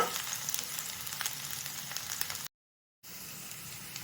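Sabu khichuri sizzling in a pan with a steady, close, even frying hiss that breaks off briefly and then resumes at the same level.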